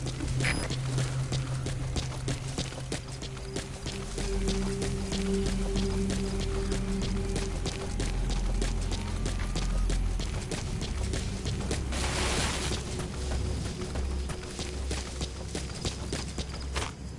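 A horse galloping across open wilderness in Metal Gear Solid V: The Phantom Pain, rapid rhythmic hoofbeats pounding continuously and loudly over low ambient game sound.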